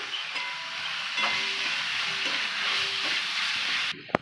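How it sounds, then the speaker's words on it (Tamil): Onions sauté in a pan with a broad, steady hiss of frying oil and a few faint utensil touches, close by and uninterrupted by speech, ending with a couple of small knocks. "வெங்காயம் நல்லா வதங்கிடுச்சு."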